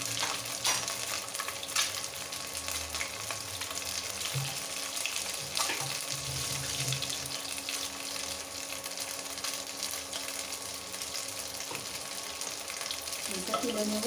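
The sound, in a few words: duck egg frying in a pan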